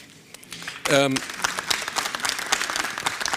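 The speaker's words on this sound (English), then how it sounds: "and so give him applause" Conference audience at an international session bursts into applause, a dense crackle of clapping that starts abruptly and carries on steadily after a brief spoken phrase.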